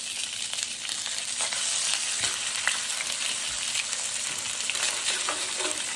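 Salt-and-pepper seasoned chicken sizzles in a pan just after being flipped, a steady crackling fry with occasional sharper pops and light scraping, fairly quiet and close, with no talking.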